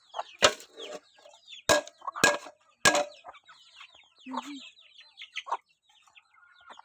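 Jungle fowl clucking in short, scattered bursts at close range, broken by a few sharp knocks and quiet gaps.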